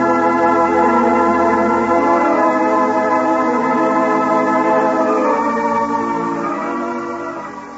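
A telephone rings in an old-time radio comedy, a steady sustained bell-like ringing that stays loud and clear with no voices over it, then fades slightly toward the end.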